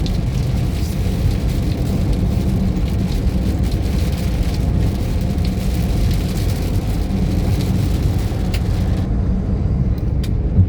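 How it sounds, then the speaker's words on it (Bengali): Rain falling on a moving vehicle on the road, a dense continuous patter over a loud steady engine and road rumble, with a few sharper taps near the end. "এই যে বৃষ্টি হচ্ছে"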